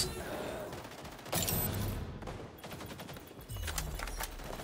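Gunfire in the video game XDefiant, several bursts of rapid automatic shots with brief pauses between them, close and fairly loud.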